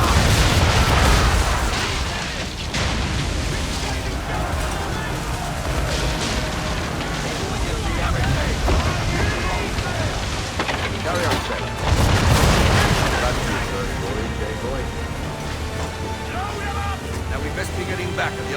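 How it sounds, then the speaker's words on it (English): Ship cannons firing a broadside in Assassin's Creed III, heavy booms at the start and again midway, with rumbling battle noise, sea and wind in between and voices shouting over it. "Fire broadside!"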